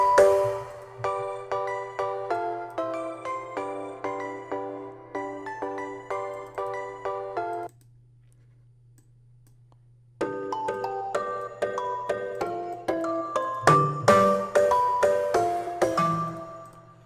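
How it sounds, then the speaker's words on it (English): A bell synth in music software plays a dancehall-style melody of quick repeated chiming notes over a sustained low bass tone, pausing for a couple of seconds before the bells return with added percussive hits. "Going to try to use one of these bells"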